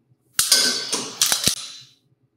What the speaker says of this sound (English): And here's a few shots from a normal shooting stance.